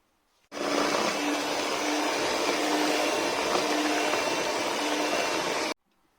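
An electric mixer whisking cheesecake batter: a steady, loud whirring hum starts abruptly, runs unbroken for about five seconds, then cuts off sharply into silence.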